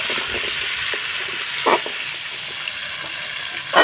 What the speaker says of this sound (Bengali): কিছুক্ষণ নাড়াচাড়া করে এভাবে করে একটুখানি ভেজে নেব আমাগুলোকে